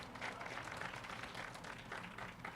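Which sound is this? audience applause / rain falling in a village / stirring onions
audience applause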